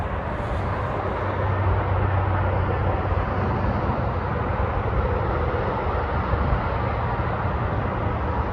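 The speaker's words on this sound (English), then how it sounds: "No doubt you can hear the interstate now." Constant broadband roar of interstate highway traffic carries through woods nearby, loud and steady for the whole stretch with no talk.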